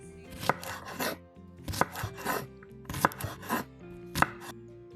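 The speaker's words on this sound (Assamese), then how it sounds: "বিলাহী এটা সৰু সৰুকৈ দীঘল দীঘলকৈ কাটি ল'ম" A knife chops a tomato into thin strips on a board, sharp cutting strokes landing in four clustered bursts with brief pauses between, close and fairly loud, no talking.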